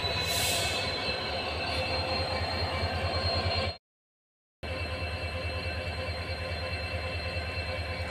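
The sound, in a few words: train arriving on railway track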